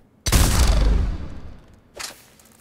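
A single loud, booming shot from the Executioner heavy pistol in Mass Effect 3, fired from the hip at point-blank range, decays over about a second before a shorter mechanical clack.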